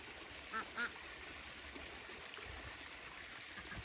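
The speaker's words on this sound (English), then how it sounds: "Oh, the ducks are having a blast." Ducks splash and quack in a small stream, two short bright quacks early on over a steady trickle of running water outdoors.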